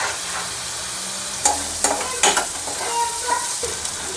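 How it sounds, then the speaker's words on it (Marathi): Mutton masala stirred and fried in oil for a mutton kadai curry, a steady close sizzle with a few sharp scraping strokes of a spoon against the pan. "तेलामध्ये परतून घ्यायचं आहे चांगलं तेल सुटेपर्यंत त्याला परतून घ्यायचं"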